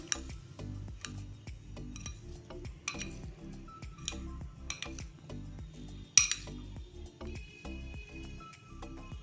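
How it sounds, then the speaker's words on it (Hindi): Chickpea salad with salt and chopped coriander being mixed in a bowl, with a spoon clinking and tapping repeatedly against the side in an irregular rhythm, close and moderately quiet, with no talking. "अब इन सब चीज़ों को अच्छे से मिक्स कर देंगे"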